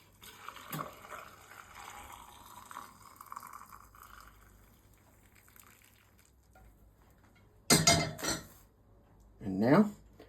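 Hot pickling vinegar is poured into a glass jar of eggs after being taken off the heat, with clinking glass and splashing liquid in two short bursts near the end, preceded by quieter kitchen handling.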